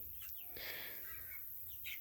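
Backyard hens clucking and chirping on fresh grass, with a few soft calls over steady outdoor background noise, moderately close and fairly quiet, with no talking.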